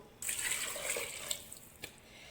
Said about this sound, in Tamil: இப்போ நம்ம தண்ணி ஊற்றிக்கலாம் ஒன்றே முக்கால் டம்ளர் தண்ணி வந்து ஊற்றுறோம்